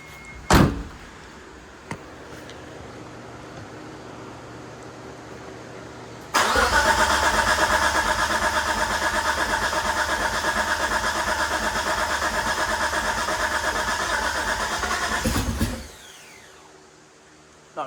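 Mitsubishi 3000GT VR4 with a new engine, after sitting abandoned for a long time, cranks in one long steady starter whir lasting about nine seconds before cutting off, preceded by a door thunk and a few clicks.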